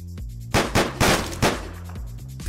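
Video game gunfire from Deadbolt crackles in a quick volley of several loud shots over a steady, droning game soundtrack.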